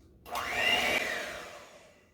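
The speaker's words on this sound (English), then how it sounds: "I've got my mixer, and I'm just going to mix this together until it's blended." An electric mixer whirs into life and runs steadily for about two seconds, blending red velvet cake batter for mini cakes. Its motor whine is loud and close before tapering off, with no talking.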